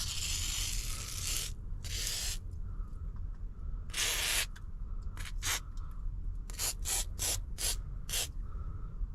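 WD-40 sprays from a can onto the leather seats of a 2019 Mustang GT in about a dozen short hissing bursts of varying length. The bursts are close and crisp over a low background rumble.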